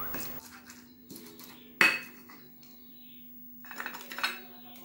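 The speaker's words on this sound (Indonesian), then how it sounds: "Nah, ditumbuk-tumbuk seketik, biar lumik ya. Nah, digiling-giling." Chili, shallots and smoked fish pounded and ground in a mortar for sambalado, with scattered knocks and clinks and one sharp loud strike, then scraping grinding strokes, close and moderately quiet with a steady low hum underneath.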